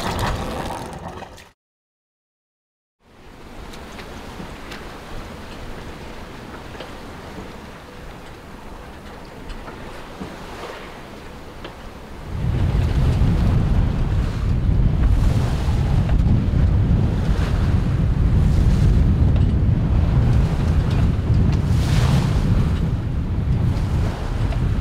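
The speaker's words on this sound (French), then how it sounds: "Ça aura pas duré très longtemps la petite période calme. Il y a déjà 20 nœuds de vent là." Strong wind of around 20 knots at sea aboard a sailboat approaching Gibraltar at night: loud, steady roaring wind noise and rushing water, with a brief dropout early on, then growing heavier and deeper in the second half.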